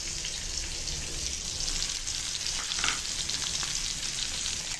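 Chicken frying in a pan, a steady close sizzle and crackle of hot oil that carries on without a break, with no voices.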